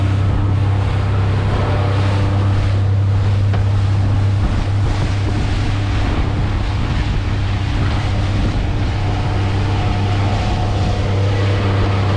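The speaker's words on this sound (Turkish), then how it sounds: "dışarıda kıyamet kopuyor, rüzgar var, fırtına var, dalga var" Strong wind roars across the microphone over a low steady boat hum, with waves washing and slapping continuously around the hull in stormy weather.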